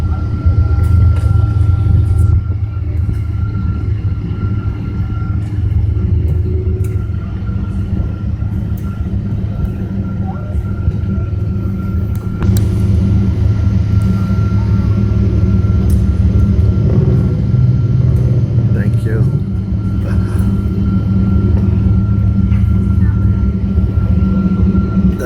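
Inside the cabin of a United Airlines Boeing 777-200ER just after landing at Newark Liberty Airport, a loud steady low rumble and roar of rolling and engines, with a brief clunk midway.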